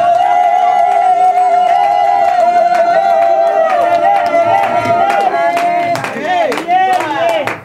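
A wedding congregation at a customary ceremony in Paris erupts in loud cheering, with sustained ululating cries, clapping and shouting voices building into a dense crowd clamor.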